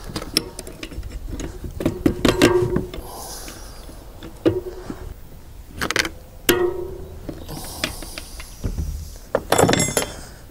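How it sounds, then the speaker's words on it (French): A mountain bike freewheel being tightened with a 24 mm flat wrench, heard as close metallic clinks, ticks and ratcheting scrapes in irregular bursts with short pauses, with no voices. "Clé plate de 24 mm et vous serrez de toutes vos forces."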